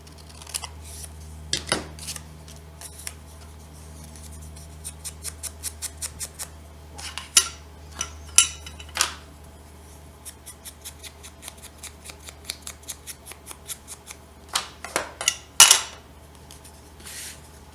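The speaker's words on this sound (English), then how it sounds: "This I will just cut with scissors instead of getting out my cutter." Crisp snips of scissors cutting paper, a quick run of blades closing in a steady rhythm, then scattered louder cuts after a pause, close up with no talking.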